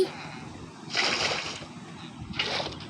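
A water bucket emptied in Minecraft: two short whooshing water-pour sounds about a second apart, close and clear, with quiet background and a faint voice.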